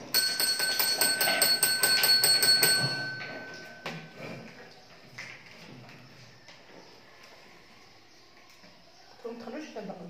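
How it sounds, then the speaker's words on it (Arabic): A classroom bell rings loudly and steadily for about three seconds with a bright metallic tone, then stops, followed by quieter rustling, knocks and children's voices in the room. "لازم ندق الجرس"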